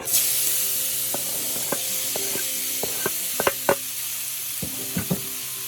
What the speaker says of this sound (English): Saute that a little bit. Rolling around in that butter.